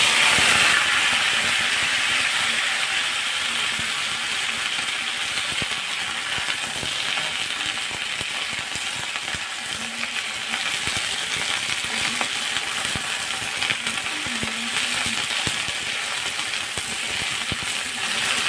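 Okra sizzles and fries in a pan while being stirred, a constant loud crackling hiss with occasional scraping taps, heard close up and without speech.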